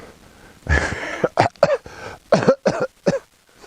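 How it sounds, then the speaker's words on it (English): A man coughs loudly several times in a row, a rough burst followed by a rapid series of sharp hacking coughs, close by with quiet surroundings. "I cough like that on purpose"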